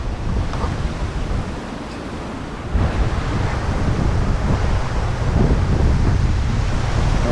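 Steady wind buffets an uncovered microphone beside a fishing lake at a summer match-fishing event, a continuous loud rumbling roar that strengthens partway through and holds without a break.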